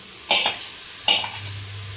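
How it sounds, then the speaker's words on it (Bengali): Meat being stirred into a sizzling spiced masala in a pan, two scraping strokes of the spoon over a steady frying hiss, close and alone. "এরপর আমি মাংসটা ছেড়ে দেবো এটাতে"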